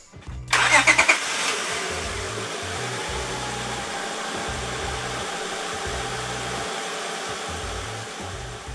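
A 2003-2007 Honda Accord engine cranks briefly and fires up, then settles into a steady, even idle that runs on alone.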